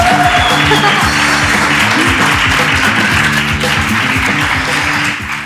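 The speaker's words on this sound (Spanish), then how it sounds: "las vamos a dar un fortísimo aplauso" A studio audience claps loudly and steadily to welcome two guests onto a talk show, dense applause sustained throughout with a faint voice beneath it.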